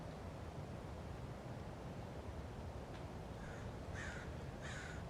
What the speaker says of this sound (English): there are crows going